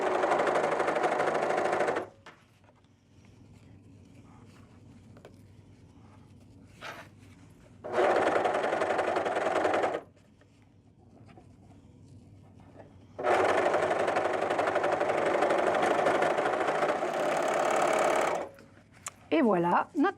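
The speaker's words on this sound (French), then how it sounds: "Et on y va pour la dernière couture." A sewing machine runs in two loud bursts while stitching the last seam of a fabric pouch, with quiet pauses between and a person speaking softly during the gaps.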